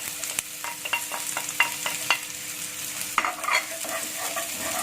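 Garlic fries in a pan for a pork or chicken stew while a utensil stirs it, sharp scraping clicks repeating over a low steady sizzle, close by with no voices.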